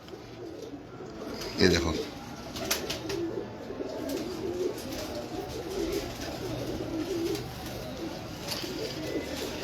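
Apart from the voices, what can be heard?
pigeons cooing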